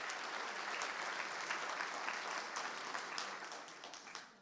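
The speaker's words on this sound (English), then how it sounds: "You can first get a round of applause from the audience." Audience applause after a skeptics' congress talk on AI, a dense, steady clapping from a full room that holds strong throughout and tapers off at the very end.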